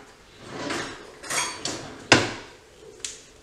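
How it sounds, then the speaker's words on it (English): A pineapple casserole mixture spread out in a baking dish, with a few soft scrapes and light clinks of a utensil against the dish, spaced irregularly and fairly quiet. "just spread that out evenly in the baking dish"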